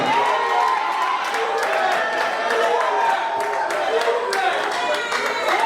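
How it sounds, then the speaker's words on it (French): An audience at an awards ceremony breaking into applause, a dense, sustained wash of clapping and crowd noise with scattered shouts. "Les applaudissements."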